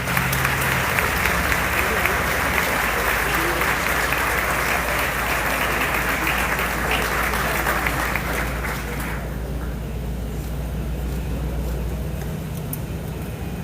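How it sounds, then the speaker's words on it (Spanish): An audience at the Filgua 2025 inauguration gives loud, sustained applause, a thick roar of many hands over a low hum that thins out in the last few seconds. "Un fuerte aplauso para ella, por favor."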